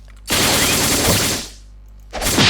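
Missile explosions and gunfire in Roblox Blox Fruits, a loud sustained burst of blasts that fades out, then a second loud burst starts up near the end.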